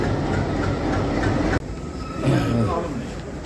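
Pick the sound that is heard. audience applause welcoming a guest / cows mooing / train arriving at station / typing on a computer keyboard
train arriving at station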